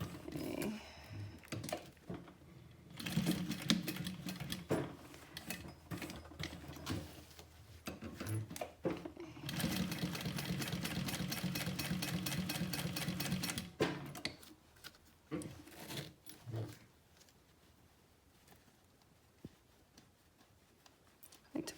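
Sewing machine stitching a leather-style pocket wallet, running in several bursts of rapid mechanical chatter separated by pauses and handling clicks, close and moderately quiet.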